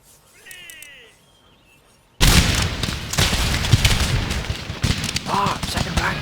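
Massed musket volleys from ranks of line infantry in Empire Total War crash out after a quiet moment of ambient chirping, then keep going as a loud, rolling fusillade of overlapping shots.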